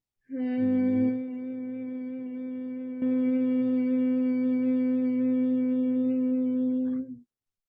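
One long, steady hum with the mouth closed on the exhale during yoga, held on a single low note for several seconds with a slight waver near the start.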